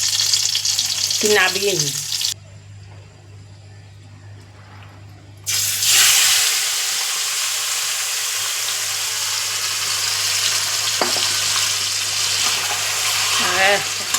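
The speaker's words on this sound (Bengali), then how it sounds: "এটা তেলের মধ্যেই বসিয়ে দেবো মাংসটা" Meat sizzles loudly in hot oil used earlier to fry onions, a constant crackling hiss that briefly drops away and then returns strongly, with a person talking near the start.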